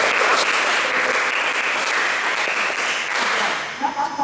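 A group of people clap together during a youth church service game, a dense, sustained patter of hands filling the room without clear breaks between the three claps.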